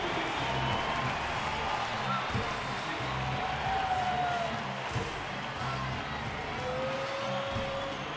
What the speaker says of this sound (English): The crowd standing as the big man approaches.